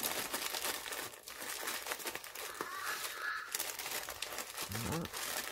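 Doubled tissue paper crinkles as it is folded around a personalised chocolate box for a wedding buffet, a steady close, soft rustling throughout with a few sharper crackles and some background noise.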